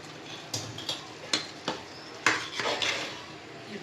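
Mutton biryani being stirred in a pot, a spoon scraping and knocking against the metal in several separate strokes, close and fairly quiet, with no voices.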